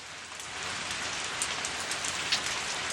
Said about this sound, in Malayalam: മഴ വരുന്നുണ്ട്